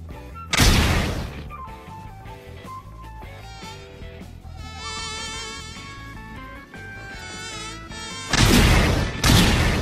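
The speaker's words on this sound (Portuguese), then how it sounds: "Mosquito." A mosquito's thin, wavering whine drones through the middle stretch of an anime meme short, set between louder bursts of noise at the start and end.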